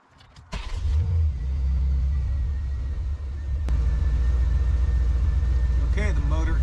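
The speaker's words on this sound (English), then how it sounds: "Okay, the motor is running, as you guys can probably hear" Corvette engine starting and running, a close steady low rumble that settles into an even idle with a slight rise partway, and a brief sharp knock near the end.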